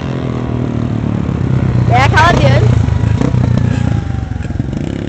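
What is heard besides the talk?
motorcycle riding on a dirt trail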